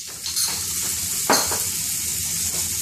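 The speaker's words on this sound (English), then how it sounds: "I leave it sizzling in there for a few seconds" Onions and peppers sizzle steadily in a hot pan, a bright crackling hiss with occasional stirring scrapes, close and without talk.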